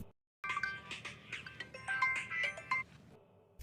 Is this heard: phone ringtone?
yes